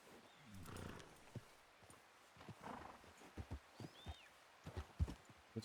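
Horse hooves clip-clop softly and irregularly in Red Dead Redemption 2, with scattered faint thuds over quiet ambience.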